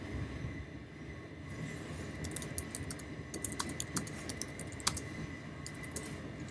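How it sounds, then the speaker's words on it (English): Message being typed on a computer keyboard, light rapid keystrokes in irregular bursts over a low, steady background hum, fairly faint and close. "Let's type a message."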